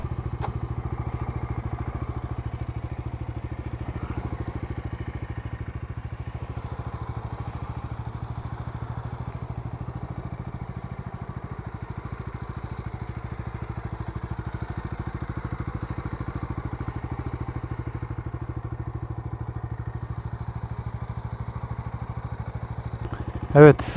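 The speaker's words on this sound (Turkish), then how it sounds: "Öncelikle şurada bir kenarda durup hemen motoru göstereyim." A Bajaj Dominar 250D motorcycle engine idling steadily and close after the rider pulls over at the roadside, a low constant hum with a brief spoken word and a sharp thump at the very end.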